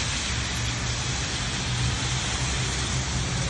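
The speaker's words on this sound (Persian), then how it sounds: "بعد از 3 هفته گرمای وحشتناک حالت بارون نصیب دلهای ما شد." Steady rain falls in Rasht in northern Iran, a dense, even hiss of drops on surfaces that continues without a break, with a faint low rumble underneath and no talking.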